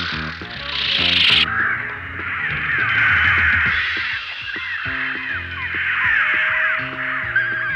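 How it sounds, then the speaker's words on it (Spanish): A flock of cartoon crows in an animated science-fiction series caws loudly and continuously, their harsh overlapping calls blending with sustained tonal background music. "Sí, yo me encargo de los pájaros."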